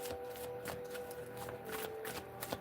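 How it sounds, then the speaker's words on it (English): Tarot cards are shuffled by hand in a quiet room, a run of soft, close riffling snaps and flicks in an uneven rhythm, heard alone without talk. "Shuffling for Pisces."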